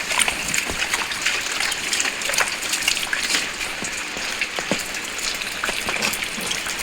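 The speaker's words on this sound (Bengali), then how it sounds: "দেখো বৃষ্টি হচ্ছে উঠোনে জল" Rain pouring steadily into a courtyard, a dense even patter with scattered closer drips and splashes throughout, no talking over it.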